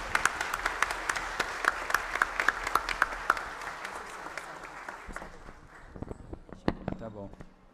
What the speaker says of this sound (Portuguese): E uma salva de palmas para os contadores,